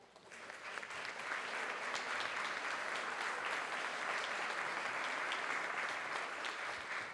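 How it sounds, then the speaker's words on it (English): Steady, sustained round of applause from an audience at a city community State of the City event, building in the first second then holding an even, moderately distant wash of clapping throughout. "Please stand so we can give you a round of applause."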